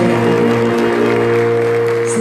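Loud applause rises from a Haitian Baptist church congregation in Philadelphia during a choir service, steady clapping mixed with sustained keyboard or organ tones throughout.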